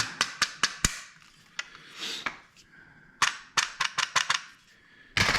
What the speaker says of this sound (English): Tap the barrel band back in place.